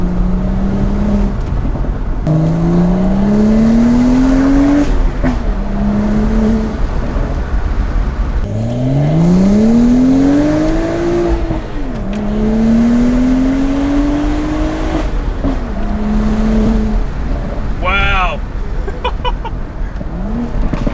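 A stock-turbo BMW E82 135i with full bolt-ons, around 370 hp, accelerates hard through the gears, its engine note climbing then dropping at each shift, loud and close inside the car, with a brief high chirp near the end.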